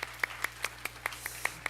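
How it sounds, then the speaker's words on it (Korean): Sparse, evenly spaced claps from a church congregation, about nine sharp hand claps in a slow steady rhythm, faint and fairly close. "우리 박수 한번 할까요?"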